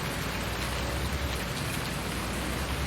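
Rain in the video game Farming Simulator 19: a dense, steady hiss of falling rain, loud and unbroken, with no voices.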